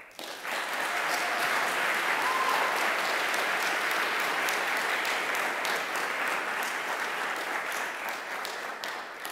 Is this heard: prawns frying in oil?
no